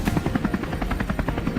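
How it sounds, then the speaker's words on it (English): A helicopter flies over a farm field on a hillside, its rotor thudding in a fast, steady pulse with a buzzing drone beneath, loud and close, with no voices over it. "We quickly maneuvered the helicopter into position, ready for an intense sweep."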